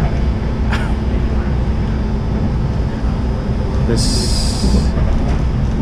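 Steady low rumble of a BART subway train riding the tracks from San Francisco toward SFO Airport, with a brief high-pitched squeal partway through.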